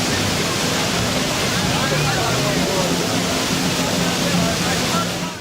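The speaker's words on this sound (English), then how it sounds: "You can hear us passing by a waterfall." Waterfall at Disney's California Adventure, a steady broadband rush of falling water that stays loud and constant throughout without pause.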